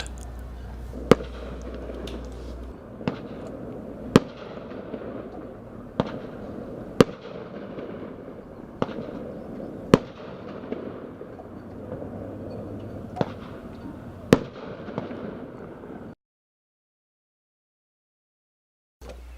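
Fireworks pop over a bay shore at a 4th of July celebration, about ten sharp, distant bangs spaced a second or two apart over a low background murmur, then silence.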